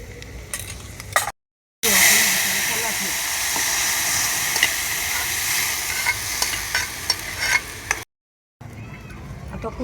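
Mustard seeds and homemade masala sizzle in hot oil with garlic over a wood-fired stove while cooking matki dal. A loud, close, continuous crackling fry fills the clip, broken by two brief silent gaps.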